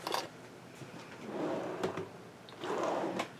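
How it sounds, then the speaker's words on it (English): A drawer slides open and shut with soft rolling rumbles and a couple of sharp clicks, close by and fairly quiet. "open up the right drawer."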